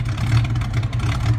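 A 1986 Ford Foxbody Mustang engine idles steadily with a low, continuous rumble, close and fairly loud throughout, with no talk over it.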